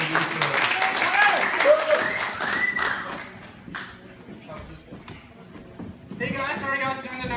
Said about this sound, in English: So if you guys can give me your attention, a round of applause for Tyler.